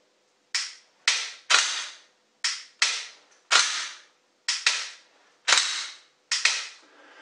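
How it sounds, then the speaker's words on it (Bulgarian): Glock pistol shots at a shooting range near Plovdiv, eight sharp reports fired one after another with short irregular pauses, each with a brief decaying echo and no talk between them. "То се изстрелва."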